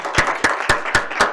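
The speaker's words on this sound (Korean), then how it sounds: "큰 박수로 맞아주십시오" Applause from a forum audience welcoming a speaker at a child welfare forum: a short burst of claps with about five louder, evenly spaced strokes standing out against a steady, close patter.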